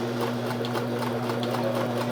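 Sears Kenmore sewing machine running a triple zigzag stitch, a steady close mechanical whir with a fast, even needle rhythm and a constant low motor hum, no talking.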